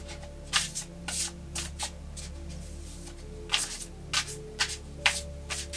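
Cards riffle and slap in quick bursts, with short pauses between shuffles, close and fairly quiet, with no talking.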